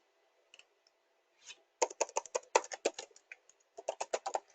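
Quick clusters of sharp plastic clicks and key taps from a computer keyboard and mouse, close and crisp, arriving in rapid bursts after a near-silent start, with no voice present.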